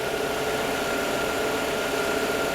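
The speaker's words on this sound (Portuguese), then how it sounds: "O motor já pegou estabilizado" A Peugeot 408 car engine with a fault and noise complaint idles steadily just after being started, a constant, even drone with no voices.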